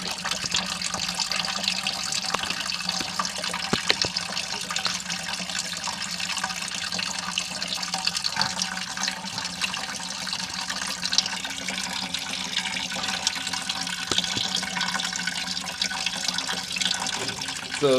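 Coolant drains from the block of a 1960 Pontiac 389 V8 engine after a freeze plug is removed, a steady splashing trickle of liquid that continues at an even level throughout, fairly close, with no talk.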